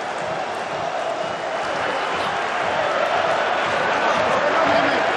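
A large stadium crowd roars in a steady, swelling wall of cheering after an AIK goal in a Swedish football match between IFK Norrköping and AIK, loud and distant, building slightly toward the end.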